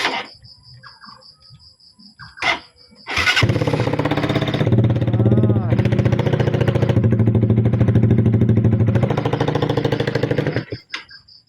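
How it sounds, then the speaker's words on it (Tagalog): Motorcycle engine running with no silencer fitted: after a few seconds of quieter sounds it roars into a loud, raw, continuous drone that holds steady for about seven seconds, then cuts off abruptly. "So tignan natin yung walang silencer."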